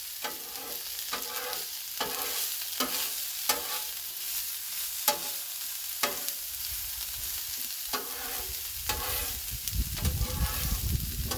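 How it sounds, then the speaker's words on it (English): Maple bacon frying in oil on a Blackstone griddle, a constant close sizzle broken by regular metal spatula scrapes as it is stirred, with louder spattering near the end. "Get that stirred around in the oil a little bit."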